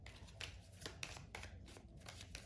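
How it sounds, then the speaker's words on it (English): Quick riffle shuffles of a tarot card deck, several crisp bursts in close succession, near and fairly loud. "Rhea wants me to shuffle."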